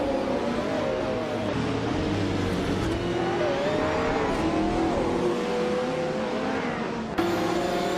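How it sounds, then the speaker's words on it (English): A 1995 BMW M3 GTR Evo racing engine in a racing video game holds a loud, continuous high-revving drone, its pitch shifting with gear changes and throttle, with other cars faintly mixed in. "Bot Crazy Sweet Butt is driving a 1995 BMW M3 GTR Evo."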